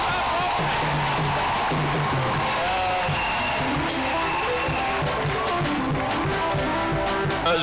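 A Christian congregation at a ministry event cheers and shouts in loud acclamation, a dense continuous roar of voices with whoops rising over it throughout.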